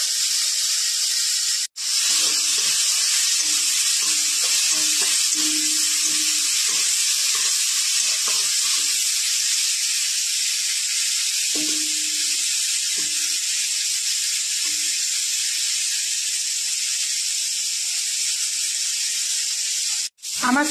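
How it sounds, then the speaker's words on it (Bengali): Prawns frying in hot white oil with salt and turmeric in a karahi, a loud, continuous close sizzle that holds steady for about twenty seconds, with faint clinks and murmurs underneath. "গরম হয়ে গেছে, আমি চিংড়ি মাছ ছেড়ে দিলাম। চিংড়ি মাছটা ভেজে নেব।"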